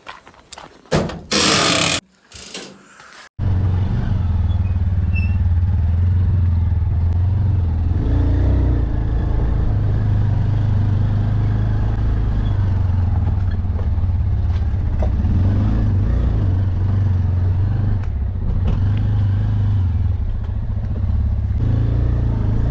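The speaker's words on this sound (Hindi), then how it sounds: "जल्दी से पहले अपनी बाइक निकालता हूँ और निकलता हूँ बाज़ार के लिए।" A motorcycle starts with a few loud bursts, then settles into a steady, close engine drone as it rides off along a hill road, with no voices.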